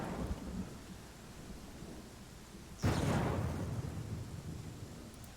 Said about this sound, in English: You might want to seek shelter. From this storm.